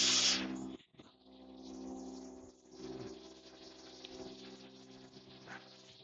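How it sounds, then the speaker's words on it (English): Air compressor starting up in a woodworking shop, a low steady motor hum with a rough whirring hiss, moderate and fairly distant-sounding, running continuously after a brief initial burst. "And now I think it is time to start up my compressor."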